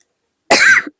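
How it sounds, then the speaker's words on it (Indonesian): A single close, loud cough bursts out after a half-second of silence, rasping briefly before trailing off with a small throat sound. "maaf aku batuk."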